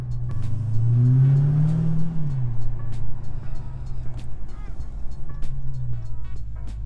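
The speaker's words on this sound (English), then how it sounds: "that makes the supercharger just a little bit louder" A supercharged 2020 Dodge Charger Hellcat Widebody engine with an aftermarket intake revs up with a deep, rising roar, then settles into a low idle rumble, close by, with scattered clicks and knocks.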